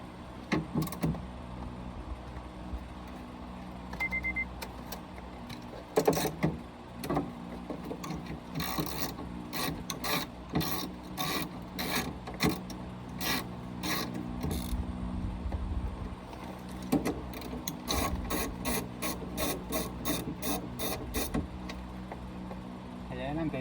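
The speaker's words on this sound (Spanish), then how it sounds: "Quitamos los tornillos de la base Con un dado 10 con un dado 10 milímetros" A 10 mm socket ratchet clicks in quick rapid runs while removing the window motor mounting screws inside the door of a Honda Civic Si, close and moderately loud, with some mechanical knocks and people talking at times.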